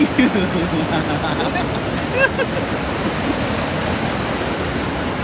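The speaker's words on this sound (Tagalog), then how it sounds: "Ang lakas kasi ng tubig mga idol." Strong river water rushes loudly and continuously, a dense, steady roar with no breaks.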